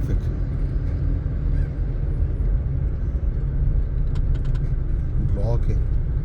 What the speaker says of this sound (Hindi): क्लब रोड ते इस्लामाबाद क्लब के सामने ट्रैफिक का शदीद रश